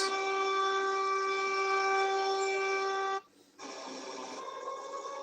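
A French emergency alert siren holds a steady, harmonic-rich tone, cuts off abruptly for a moment, then resumes at a lower level.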